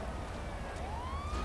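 A police car siren wails in a video game, a single rising tone sweeping upward at moderate volume over a steady background hum.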